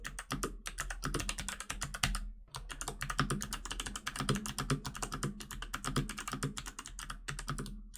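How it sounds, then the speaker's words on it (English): Rapid, steady typing on a Durgod Hades 68 keyboard fitted with Kailh Box White switches, close up, with crisp clicky keystrokes running continuously with only brief pauses. "here's a quick audio test of the switches that I got for this keyboard, which is the Kailh box white switches"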